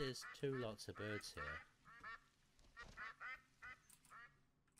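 Goldeneye duck calls in The Hunter: Call of the Wild, a run of short nasal quacks in bursts, loud at first then softer and more spaced, with a quiet outdoor hush between.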